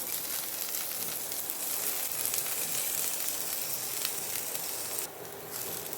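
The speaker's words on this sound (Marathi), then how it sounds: "टोमॅटो भाजून तयार." Seeded, chopped tomato roasting in a little oil, giving a steady close sizzle and hiss throughout, briefly dipping near the end.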